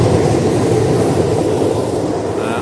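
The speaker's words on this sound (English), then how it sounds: "I think there's another train coming." Metro train passing by an outdoor spot, a loud continuous rumble of wheels on rails with a steady clatter that holds throughout, with no talk over it.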